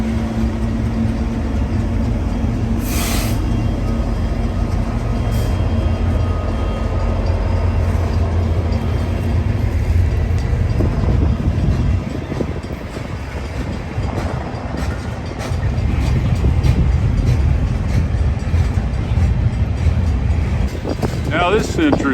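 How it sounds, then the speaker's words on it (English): A freight train rumbles and clatters steadily past, heard from a Tesla Model X towing a trailer on a road trip in Wyoming. The sound is loud and continuous, with people talking over it. "We're sitting here watching this train go by."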